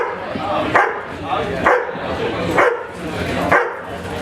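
A trained avalanche rescue dog barks four times in a steady rhythm, sharp close barks spaced about a second apart with a person talking throughout underneath.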